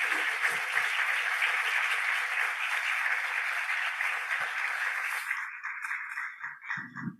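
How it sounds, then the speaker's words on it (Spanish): A sustained round of applause from the audience honours panel speakers at a parallel session on low-cost science and technology solutions. It holds loud and even, then thins out abruptly into a few scattered claps and faint sounds. "Agradezco si les damos un fuerte aplauso para también reconocer el esfuerzo que hacen."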